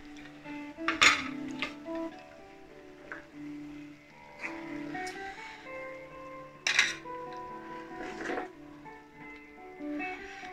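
Steel dishes and a serving spoon clink as gobhi matar kurma is served once the gas is off: a few separate bright clinks and scrapes, spaced several seconds apart, close and fairly quiet.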